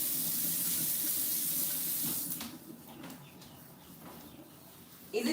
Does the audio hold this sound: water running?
yes